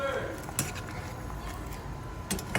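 Pork being stirred in a metal pan, with scraping and a few light clinks of a utensil against the pan over a steady background hiss.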